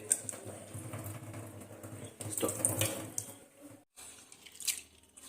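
Lentils being washed under a running tap for a Telugu dish: water splashes and trickles unevenly in a sink, rising and falling with handling, briefly cutting off before resuming, close and without talk.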